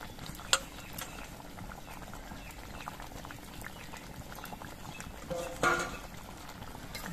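Pabda fish curry in mustard paste simmers in a pan with coriander leaves, giving a quiet continuous bubbling with occasional soft clinks and a brief stir near the end.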